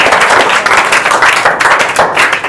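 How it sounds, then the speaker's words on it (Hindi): Students in a classroom clap for themselves, a loud, close burst of dense, fast hand claps that continues for the whole stretch with no talk over it. "स्वयं के लिए तालियां।"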